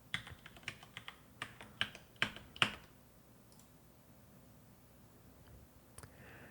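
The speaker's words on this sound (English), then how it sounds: "Type in my password." Fingers tap out a password on a computer keyboard in a quiet room, with a quick run of distinct clicking keystrokes over about three seconds, a pause, then a final key press.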